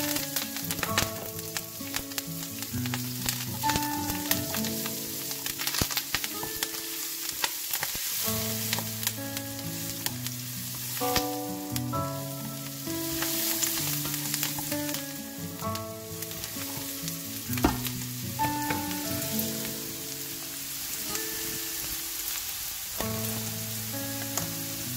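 Mustard seeds crackle and pop in hot oil for a puffed rice chivda, a dense, steady sizzle with scattered sharp pops, accompanied by background music.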